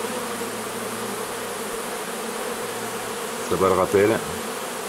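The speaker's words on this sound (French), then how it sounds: "Toutes les abeilles se dirigent dans la même direction, ça c'est magique" Dense, continuous buzzing of a large honeybee swarm flying into a Dadant hive, close and steady throughout, with a brief spoken phrase near the end.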